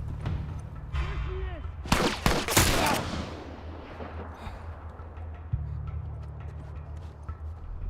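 Gunfire in the video game The Last of Us: a tight cluster of sharp, loud shots in quick succession near the middle, set over a low steady drone with faint background clatter.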